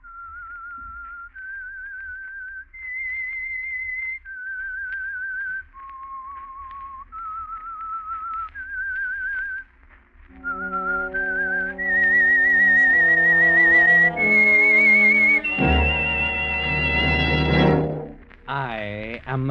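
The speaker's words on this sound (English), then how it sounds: "That whistle is your signal for the Signal Oil program," A whistled melody serves as the opening theme signal of The Whistler radio mystery program, single clear tones stepping through the tune, then joined by a swelling orchestral accompaniment that builds loudly toward the end.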